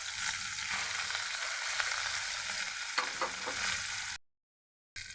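Small jatka hilsa fish sizzle and crackle in hot oil in a pan, a steady frying hiss with occasional spatters and stirring scrapes, cut by a brief silence near the end.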